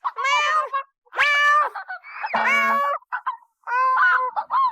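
A cat meows repeatedly up close, four or five loud, drawn-out calls separated by short pauses.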